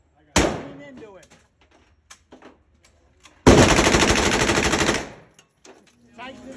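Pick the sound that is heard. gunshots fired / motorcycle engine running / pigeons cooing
gunshots fired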